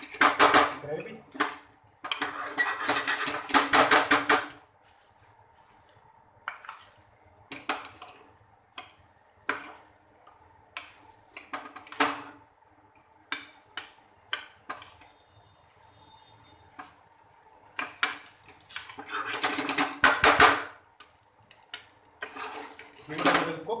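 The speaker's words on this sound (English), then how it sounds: "You need to toss the rice into the gravy." Cooked rice is tossed into cottage cheese biryani gravy in a pan, with loud bursts of clanging metal, spatula scrapes and rattling separated by quieter stretches of low sizzle, close by and with no talking.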